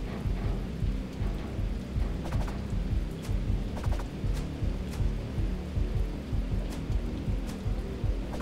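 Rain effect in the video game David Get Keen, a steady dense patter of falling rain with rumbling low thuds recurring throughout, loud and continuous with no voices.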